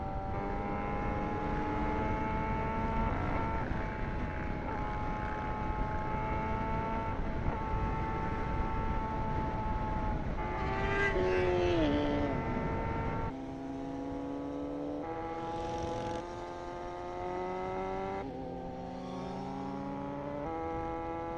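A Kawasaki ZX6R motorcycle is ridden, its engine whining and droning steadily with rising revs, then dropping through gear changes, loud and close without talk.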